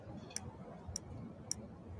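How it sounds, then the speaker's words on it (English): Three sharp, evenly spaced ticks, about half a second apart, from a video game character about to blow up, clicking clearly over a quiet low rumble with no talking. "ticking noise? Oh, she's gonna blow up."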